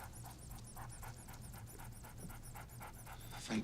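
A dog in the crime film Snatch pants rapidly in quick, even huffs, a steady rhythmic breathing that stays fairly quiet and close throughout, with a brief louder sound right at the end.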